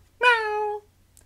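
A single clear meow from a cat in the Puss! video game, loud and close, about half a second long, alone against a quiet background.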